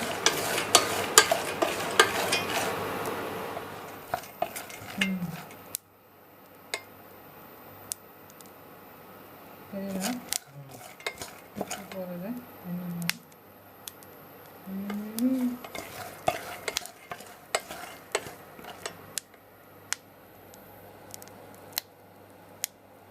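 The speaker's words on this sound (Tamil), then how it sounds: "சரி வறுத்தே வச்சிடலான்ட்டு நான் வறுத்துட்ருக்கேன்." Peanuts roasting with salt in a home kitchen pan, stirred with a utensil: scraping, rustling stir strokes and dry rattling of nuts in bursts, close and moderately loud, with no talk.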